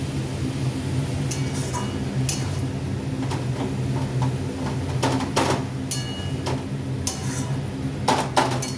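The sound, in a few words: stirring spices in a pan while cooking rui fish with bottle gourd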